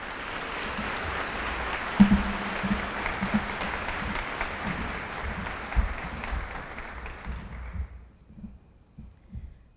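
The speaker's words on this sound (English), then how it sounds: "Please applaud these students." An audience applauds graduating high school students at a graduation ceremony. The clapping is steady and full, with a few louder thumps, then thins and dies away near the end.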